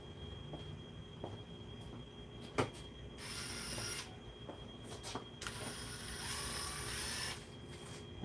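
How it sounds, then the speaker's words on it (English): A small DeWalt impact driver hammers in short bursts on a Stihl blower, fitted with a 3/8 drive adapter, with a few sharp metallic clicks between the runs and no talking. "I will hit it with the DeWalt Impact"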